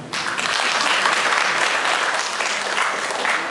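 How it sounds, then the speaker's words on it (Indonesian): An indoor audience at a university presentation session claps together, dense, even applause that starts abruptly and holds steady for several seconds without voices. "Kita berikan tepuk tangan."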